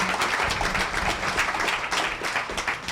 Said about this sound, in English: That could be the round of applause for Khaled and your awesome conference